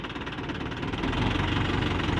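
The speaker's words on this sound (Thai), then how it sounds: "คันนี้รถไถฟอร์ดเจ็ดเจ็ดนะครับเจ็ดจุดห้าแรงม้านะครับ" A Ford 77 tractor rated at 7.5 horsepower idles close by, its engine giving a steady, low, knocking rumble with a constant vibration that swells slightly partway through.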